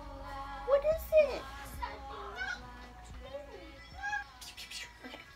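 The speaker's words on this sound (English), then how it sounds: "It's my kitten's crying." A kitten meows several times in high, wavering cries, close and fairly loud, with quieter household noise between the calls.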